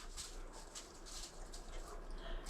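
A dog plays with a squeaky toy in the background, giving repeated faint, high squeaks and whimper-like noises over a steady low indoor hum.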